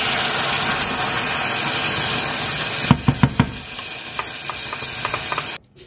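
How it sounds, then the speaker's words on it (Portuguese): Tomato sauce simmers and bubbles in a pan over onion already sautéed, a steady close hiss broken by a few sharp clacks of a spoon against the pan before it cuts off. No one speaks. "Eu deixei aqui o molho ferver um pouquinho"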